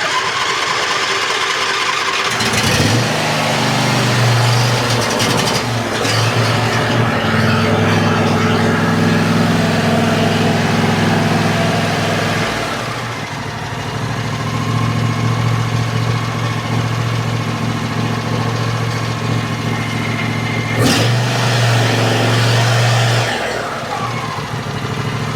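A John Deere lawn mower's small engine cranks, catches and settles into a steady idle, with throttle changes briefly lifting the pitch before it drops back to a smooth, loud, close running hum.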